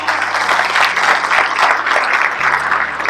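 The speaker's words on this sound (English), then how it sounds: "So if you would please give them a round of applause." Audience applause at a county chamber of commerce event, a dense, loud burst of clapping from a room full of people that holds steady and unbroken for a few seconds.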